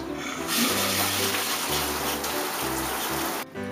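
A running shower sprays steadily as broadband water noise, loud and close, carrying on for several seconds before cutting off abruptly near the end.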